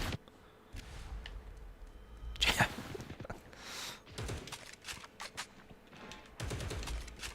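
The Punisher's turret fires in the Marvel Rivals video game, heard as bursts of rapid gunfire with a loud volley near the start and further scattered shots amid game sounds.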